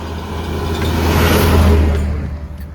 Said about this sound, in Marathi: भरपूर गाड्या आहेत या रोडला